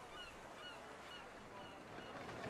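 Seagulls cry over steady ocean surf and harbor ambience in a fantasy video game cutscene with ships at port, the gull calls repeating faintly against a constant wash of waves.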